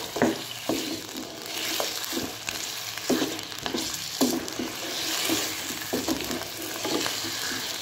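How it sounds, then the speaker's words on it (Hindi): Mutton sizzles in hot oil with ginger-garlic paste in a karahi, a steady crackling fry broken by repeated scraping stirs of a spoon against the pan, close and alone without talk. "तकरीबन 5 मिनट तक मैं इसमें फ्राई करूँगी ऑयल में गोश्त को।"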